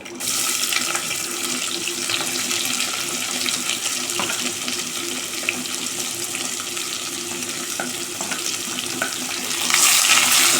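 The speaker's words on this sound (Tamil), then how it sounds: "வெங்காயம் நல்லா வதங்கட்டும்" Onions sautéing in hot oil with whole spices such as cinnamon, cloves, cardamom, mace and star anise for biryani-style rice, a dense continuous sizzle that holds steady and swells louder near the end, with no talking.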